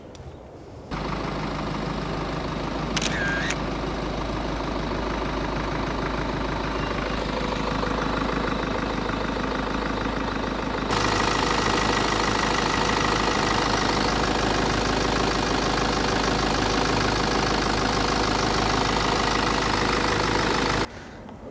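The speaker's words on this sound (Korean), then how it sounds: "그럼 이제 X3 엔진 사운드를 들려드리도록 하겠습니다." BMW X3 diesel idling with the bonnet up, a steady close-up rumble and clatter that holds level, grows slightly louder partway through, then cuts off at the end.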